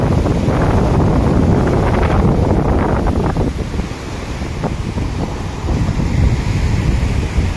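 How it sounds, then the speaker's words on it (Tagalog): Heavy surf roars continuously with strong wind buffeting the microphone, a loud, steady wash of crashing waves with no voices, on the coast of Catanduanes, Philippines, during low pressure weather. "malakas yung alon"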